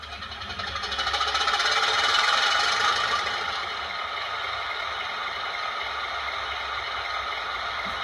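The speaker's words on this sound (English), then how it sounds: "let's fire up the engine and see what she's really like" A diesel engine rumbles and clatters from a Hornby class 31 model locomotive's DCC sound system, revving up briefly then settling into a steady, knocking idle.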